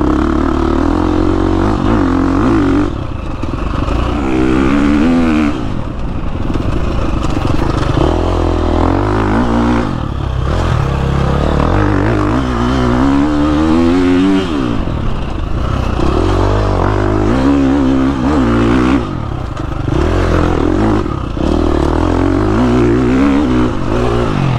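A KTM 350 dirt bike engine revs hard and repeatedly, pitch climbing and dropping in bursts, loud and close throughout.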